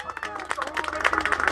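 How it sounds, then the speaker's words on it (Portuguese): Scattered clapping from a small group at a family birthday party for a mother in São Paulo's east zone, brief and uneven, with crowd chatter mixed in. "Uma salva de palmas."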